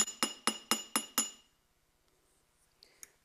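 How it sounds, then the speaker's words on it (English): A metal bracket for saw-and-solder champlevé work is struck with a hammer: six sharp, evenly spaced ringing taps in quick succession, then near silence with a couple of faint light clinks. "And then we hammer it a little."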